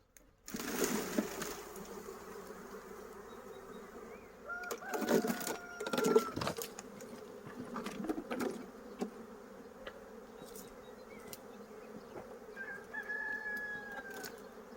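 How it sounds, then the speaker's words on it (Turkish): A honeybee swarm being shaken into a four-frame nucleus box buzzes and drones fairly quietly, with shifting hums rising and falling, some thumps and rustling handling noises mixed in. "arımı hızlı bir şekilde çırpacağım arkadaşlar"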